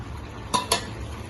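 Squeezed saluyot (jute) leaves go into a pot of ginataang kamansi, set next to pinaksiw fish. Two quick metallic clinks of utensil on pot are heard close up against a quiet, steady background.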